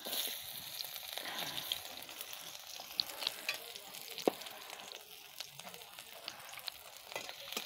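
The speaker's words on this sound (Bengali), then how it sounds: "তেল দিয়ে দিয়েছি, দেবো পেঁয়াজ," Chopped onion and green chili sizzle in a little hot oil for a sour-spicy fish dish, a continuous soft crackling hiss with faint scattered pops, heard alone and fairly quiet throughout.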